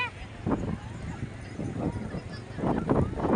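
Several honking, goose-like bird calls come in short bursts at moderate distance, with faint voices in the background.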